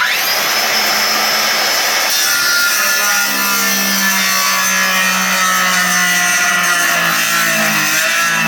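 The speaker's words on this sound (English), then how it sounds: "lent me a circular saw" Circular saw cuts through a guitar body, a loud continuous whining buzz with the pitch dipping and straining as the blade bites into the wood, close and without speech.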